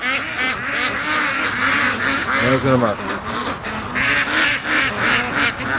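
Riled-up free-range ducks quacking in a dense, agitated chorus close by, with someone speaking briefly over the steady racket.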